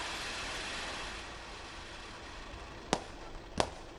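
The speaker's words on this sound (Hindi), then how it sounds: "ये देखिए लगातार 15 मिनट से पटाखे इसी तरीके से आसमान में उड़ाए जा रहे हैं, फोड़े जा रहे हैं" Firecrackers burst in the sky after Ravan Dahan at a Dussehra celebration in Mumbai: two sharp, distant bangs late on, over a steady hiss of crowd and street noise.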